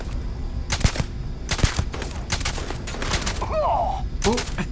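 Bursts of gunfire in Starfield, several sharp volleys spaced irregularly across a few seconds, with a brief exclamation from a player in between.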